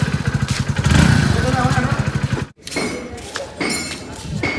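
A Hero Splendor motorcycle engine runs close by with a steady, throbbing putter, cuts out briefly, then returns with some clatter while voices are faintly heard.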